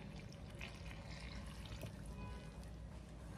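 Water poured from a cup into a bowl of flour, salt and nopales dough while making huaraches in a kitchen, a steady close splashing trickle running throughout without talk.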